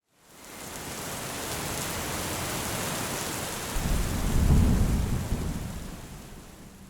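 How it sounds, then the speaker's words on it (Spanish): Heavy rain pours steadily in a thunderstorm, with a deep rumble of thunder swelling in the middle and fading, continuous and enveloping with no voices. "Aquella noche llovía a cántaros."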